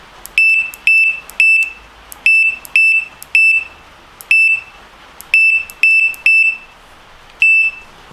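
An MK1 R-PLUS COMPACT remote bite alarm gives a string of sharp, loud, high beeps, a dozen short tones in uneven clusters with brief gaps between them.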